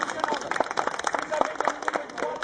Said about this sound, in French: On peut l'applaudir. On l'applaudit.